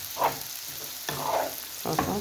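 Dendashi frying in a pan for brik sizzles in three bursts of crackling, each with a scraping stir, close and fairly loud with no one speaking.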